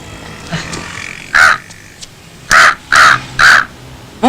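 A human voice imitates a crow, giving a few scattered loud caws, then three harsh caws in a quick, evenly spaced row, close and clear.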